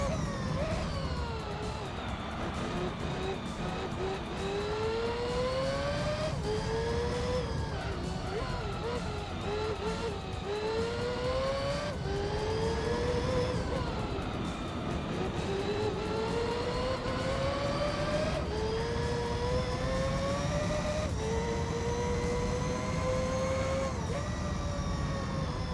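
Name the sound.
race car driving in Gran Turismo 3 video game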